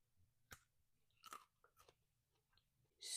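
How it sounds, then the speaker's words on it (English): Crunchy bites and chewing of a prickly home-grown cucumber, a few sharp close crunches followed by softer chewing, quiet and intimate, with a louder noise at the end. "Super crunchy and a lot of cucumber taste out of it."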